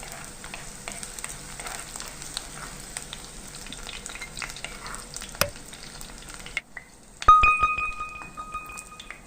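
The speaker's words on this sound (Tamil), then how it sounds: "கொஞ்சமாக கடலெண்ணெய் சேர்த்துக்கிட்டு அதில் நம்ம கட் பண்ணி வச்சுருக்க வெண்டைக்காவை போட்டு வறுத்து எடுத்துக்கலாம்." Okra pieces fry in peanut oil with a steady, close sizzle and some stirring for about six seconds. The sound then drops out and gives way to a few bright metallic clinks and pings.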